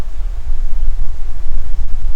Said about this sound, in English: it's a bit windy and it's rippling the water